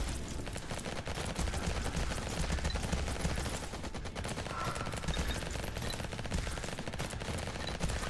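Continuous rapid gunfire in the first-person shooter Vampire Hunters, a fast machine-gun-like stream of shots running throughout, steady and fairly loud with no talking.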